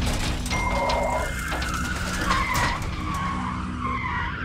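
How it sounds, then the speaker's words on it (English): Tires skid hard as a truck pulls out and strikes a car just entering the road, caught on a dash cam; a loud sustained screech with road noise rumbles close by, with no talking. "This truck came out of nowhere and eventually hit me."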